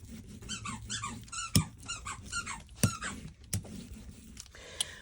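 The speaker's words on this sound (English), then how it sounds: "that is my dog's squeaky toy you hear in the background" A dog's squeaky toy squeaks in a rapid series of high, wavering chirps, with a few sharp clicks and knocks in between. Moderately loud, close by.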